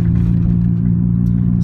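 A car fitted with an XTD clutch drives with a steady, loud low engine drone and road rumble, with no distinct shift clunk or grinding standing out.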